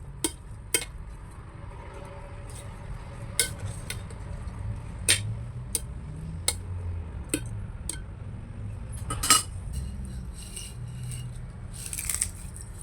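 Utensils stir and toss urap salad in a bowl, producing scattered sharp clinks and taps at an irregular pace against a quiet background, close by and without talk.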